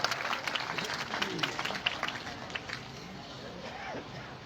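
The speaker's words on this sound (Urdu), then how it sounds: "تالیاں نال استقبال کرے سو" Applause welcoming a speaker at a community gathering in Pakistan, fairly faint and distant, with scattered claps under murmuring voices and talk.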